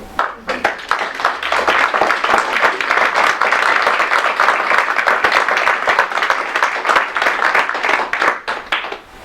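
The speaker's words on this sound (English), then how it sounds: "Round of applause." Sustained applause from a crowd at a ceremony, individual claps distinctly audible in a brisk, continuous patter that holds steady throughout.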